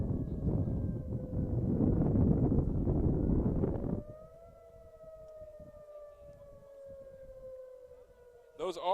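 A wailing outdoor tornado siren in Iowa holds a long, steady tone, first under loud rumbling noise, then standing out clearly against quiet background.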